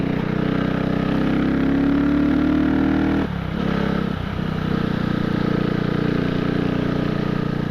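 CCM Spitfire motorcycle engine running in neutral, a steady close throbbing idle with a brief dip and recovery midway, loud and continuous with no talking.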